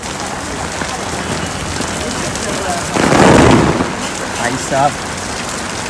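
Heavy monsoon rain pours steadily over Marine Drive in Mumbai, a dense continuous hiss that swells louder for a moment, with a brief spoken voice near the end.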